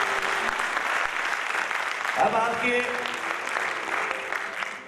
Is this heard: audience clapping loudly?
yes